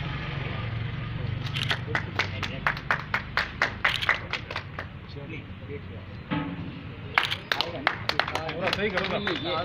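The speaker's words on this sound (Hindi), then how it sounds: "तालियां बजती रहे।" An audience at a ceremony claps in bursts of sharp, irregular claps, fading and then returning, with speech from a loudspeaker heard between them.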